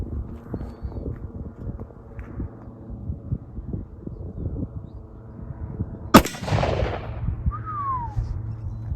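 Single sharp black powder cartridge gunshot firing a 200 grain powder coated bullet, one loud close crack with a long booming tail, preceded by quiet outdoor rustling and shuffling.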